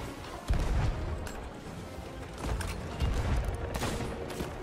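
Gunfire in the pirate game Sea of Thieves, a series of muffled booming shots and crackling bursts over a continuous rumbling battle din, moderately loud.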